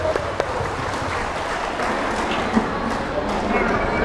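A crowd at a clan family gathering's annual celebration applauds the organizing committee with steady, moderately loud clapping. A voice talks over the clapping throughout.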